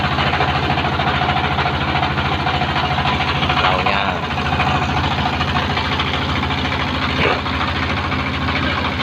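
A large boat's engine idles with a steady, dense rumble and a knocking throb on a reservoir outing, close and loud, with a voice talking over it.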